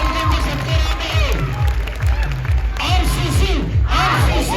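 Audience clapping and cheering at the RCC Latur results celebration honouring toppers' parents, a dense roomful of applause with whoops and shouts over steady loud music beats throughout.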